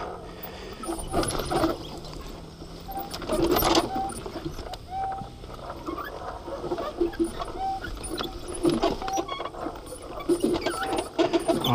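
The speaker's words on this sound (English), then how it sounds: "Those brakes sound horrible." Brief high brake squeals from an Alta Redshift EXR electric dirt bike cut in a few times over a steady rumbling trail ride noise with rattles, short and repeated rather than continuous.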